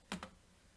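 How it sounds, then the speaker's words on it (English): Numbers are pressed into a calculator as two quick, close button clicks, quiet and in isolation. "And we type that in our calculator, 26 cosine of 21"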